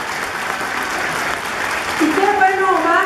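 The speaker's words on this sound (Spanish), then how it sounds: "Por eso un aplauso para los dos." Steady crowd applause at a public political gathering for a federal deputy, loud and continuous, with a voice starting to speak over the clapping near the end.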